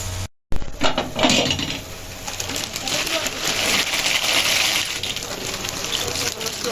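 A metal lid clatters onto a cooking pot in a home kitchen while chicken piccata with mushroom sauce is being made. A sharp clank follows a brief gap, then kitchen clatter and a watery hiss continue under conversation.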